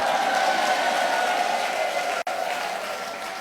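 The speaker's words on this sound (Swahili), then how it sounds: "pigie Bwana Yesu makofi." A church congregation at an economic conference in Kigoma applauds loudly and continuously, a dense wash of clapping from a large crowd with a brief dropout near the end.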